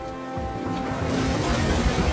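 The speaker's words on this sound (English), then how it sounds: "as waves battered the ships and hope began to fade" Ocean waves surge and wash continuously, a broad steady roar of surf with churning water that feels close and full, with no voices present.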